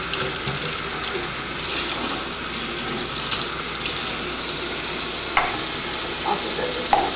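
Tap water streams steadily through a hookah stem and its holes during rinsing at a sink, a continuous close hiss and splash with small clinks near the end.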